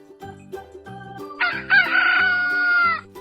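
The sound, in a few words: rooster crowing in a kids' farm animals game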